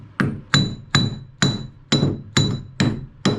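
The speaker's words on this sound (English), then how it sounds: "I should be able to hammer it out." Hammer striking to drive out a boat prop-shaft coupler, eight sharp metallic blows at a steady, even rhythm, each ringing briefly before the next, loud and close with no talk.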